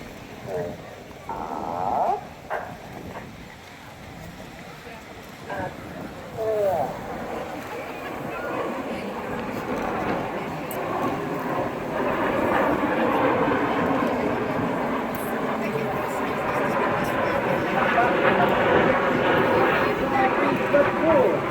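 An RAF Typhoon jet passes at the Eastbourne airshow, its engine roar building from distant to loud and sustained as it approaches, with a voice speaking over the start.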